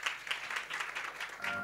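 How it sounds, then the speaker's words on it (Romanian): Audience applause at a Romanian women's gala, Green Woman 2021: steady dense clapping from a crowd, fairly close and continuous throughout, with no talking over it. "haideți să aplaudăm"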